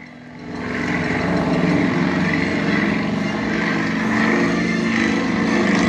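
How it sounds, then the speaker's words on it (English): A loud, steady droning of propeller stunt airplane engines climbing vertically at an airshow in Titusville fills the air, rising slightly after a softer start and holding at full power throughout. "they're going to fly these airplanes right into the vertical"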